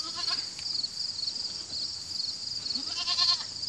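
Goats bleat at their goat building, which has cattle-panel fencing: several faint bleats sound over a steady outdoor hiss, with no talking.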